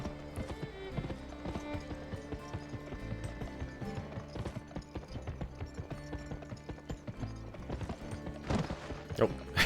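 Rhythmic clip-clop of horse hooves galloping steadily in the PS2 game Gun, with mechanical background ambience and occasional louder thumps.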